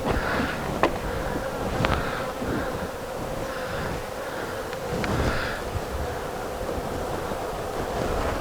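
A swarm of honeybees hums in a steady, dense buzz around a newly filled hive, outdoors with a soft wash of wind beneath it and no talking.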